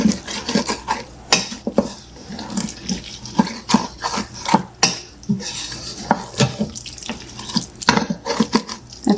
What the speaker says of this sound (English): using my wooden spoon, I'm going to stir this around and deglaze the bottom of my pan just a little bit.